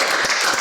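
Audience applause at a European cinema awards closing ceremony, a short burst of dense clapping from a crowd, steady and fairly loud throughout.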